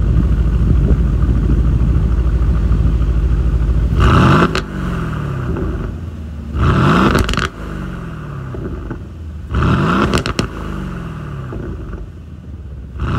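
A 2023 Aston Martin Vantage F1 Edition with a quad-tip exhaust idles with a deep, steady rumble, then is revved three times in sharp, loud bursts that rise and quickly fall back to idle, heard up close.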